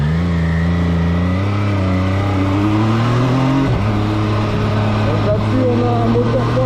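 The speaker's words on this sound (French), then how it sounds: "Moteur 3 cylindres MV Agusta 800 cm3 de 125 chevaux." An MV Agusta Rivale 800 three-cylinder 800 cc motorcycle engine revs loudly up close, pitch climbing steadily, then dropping sharply and settling before rising again, with a voice talking over it.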